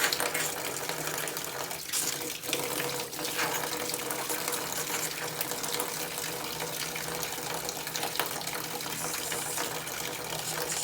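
Gold-colored coolant water pours steadily out of the 2.25L diesel engine of a Land Rover Series 2A under repair, a close, continuous splashing gush like a running tap, with a few small shifts in the flow.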